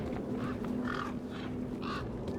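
Cawing birds in the video game Beyond a Steel Sky, a few short harsh calls spaced through the clip over a steady ambient game background hum.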